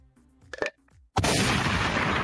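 A rocket in a video game fires with a sudden loud blast that becomes a sustained roaring rush, following brief quieter sounds at the start.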